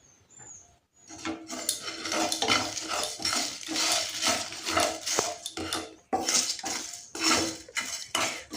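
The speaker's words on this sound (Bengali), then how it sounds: "মশলাটা যতক্ষণ না গরম হচ্ছে ততক্ষণ আমি এরকম করে একটু ভেজে নেব।" Whole spices including coriander seed, cumin and panch phoron are dry roasted in a hot pan without oil, giving a steady busy scraping and clinking of a utensil against the pan, close and continuous, with a brief pause near the start.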